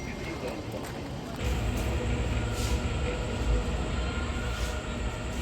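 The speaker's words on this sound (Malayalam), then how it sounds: "മെട്രോ എന്താ ഈ നേരത്തെ" A Kochi metro train passing nearby, a loud steady rumble and rush building after the first second with some high whine above it, outdoors.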